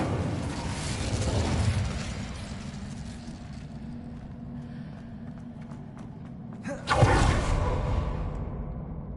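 The Incendio fire spell in Hogwarts Legacy roars and crackles for several seconds, then fades, with a sudden whooshing burst flaring near the end; no one speaks.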